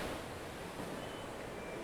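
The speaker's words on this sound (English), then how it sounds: "Look at this beautiful waterfall." An indoor waterfall at Bangalore airport gives a steady, even rush of falling water, a soft broadband wash heard alone without talk.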